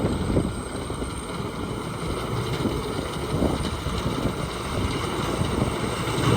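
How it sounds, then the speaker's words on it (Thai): A combine harvester cuts off-season rice in a clay-soil paddy field near Korat, its engine giving a steady mechanical drone and rumble under strong wind buffeting the microphone, with no speech. "เรามาชม เจ้าช้างไวไฟ เกี่ยวข้าวนาปังครับผมเกี่ยวข้าวนาปังที่โคราชครับ"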